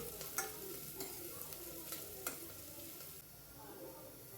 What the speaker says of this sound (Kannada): ಒಂದು ಈರುಳ್ಳಿ ಕಟ್ ಮಾಡಿ ಇಟ್ಕೊಂಡಿದ್ದೆ ಅದು ಫ್ರೈ ಮಾಡ್ಕೊಳ್ಳೋಣ